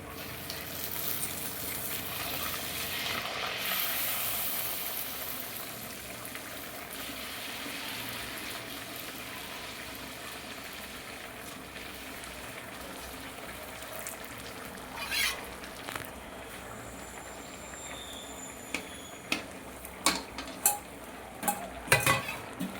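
Eggplant, potato and pea curry frying in a pan, a soft low sizzle with occasional stirring scrapes and a few sharper clinks of a utensil toward the end, quiet and close.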